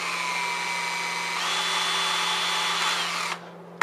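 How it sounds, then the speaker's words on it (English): An electric drill whirs steadily at close range, drilling a hole while fitting a bathroom fan, pitch shifting slightly as it bites in, then winds down abruptly near the end. "So I just need to drill it."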